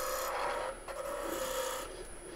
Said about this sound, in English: it takes me longer to sharpen my skew than it does my spindle roughing gouge